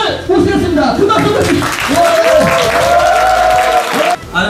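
A crowd at an ASUS-sponsored gaming festival event applauds steadily for several seconds, with a voice speaking over the dense clapping before it cuts off.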